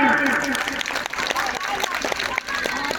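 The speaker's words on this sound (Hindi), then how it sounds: "तालियां, जोरदार तालियां" Crowd applause with scattered claps and a general hubbub, mixed with a voice talking over it through much of the stretch.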